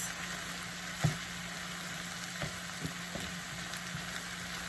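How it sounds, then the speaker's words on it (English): Cabbage for egg roll in a bowl frying in an overfilled skillet, a faint, steady sizzle with a few soft knocks from stirring. "The cabbage will wilt down as it cooks."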